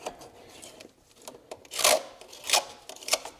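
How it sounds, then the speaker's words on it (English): A small gasket scraper rasps across the EGR valve mounting surface on a Ford 4.6L engine, giving short, close scratchy strokes in an irregular rhythm, quiet between passes. "I'll just take a little gasket scraper, clean up the mounting surface here,"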